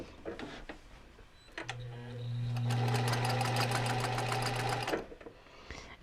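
A sewing machine stitches a seam with the needle down, a steady motor hum with rapid needle clatter running for about three seconds, preceded by a few short clicks and handling sounds.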